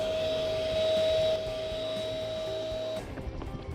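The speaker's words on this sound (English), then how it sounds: "using the air pump, I'm going to blow up the display" An electric air pump inflates a display, a steady mechanical whine with a constant tone running for about three seconds before cutting off, leaving quieter room noise.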